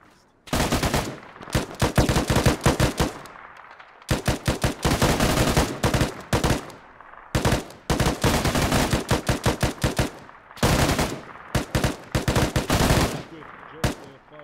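Machine gun in the military shooter Arma 3, firing loud close bursts in rapid repeated strings separated by short pauses, with no talking.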